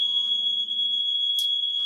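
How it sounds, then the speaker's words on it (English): A smoke alarm going off indoors during a live stream, a loud, steady high-pitched electronic tone sounding continuously and close by, with faint background noises but no talking. "One of my alarms is going off."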